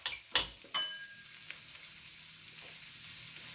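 Fried rice with cabbage sizzling in a hot pan: a couple of sharp clanks from stirring open onto a steady, quiet hiss of frying, with light scattered pops and no voices.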